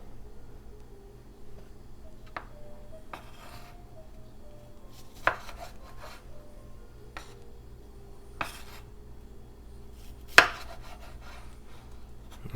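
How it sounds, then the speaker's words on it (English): A knife cutting tomatoes for a big salad, with a few sparse, sharp taps of the blade on a cutting board and faint slicing between them, close in a quiet kitchen. "different people have different ways of cutting their tomatoes"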